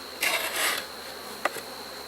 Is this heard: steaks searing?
no